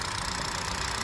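A 2022 Kia Seltos HTX idles with its hood open, a steady, even engine hum with a light mechanical ticking, close and alone, without talk.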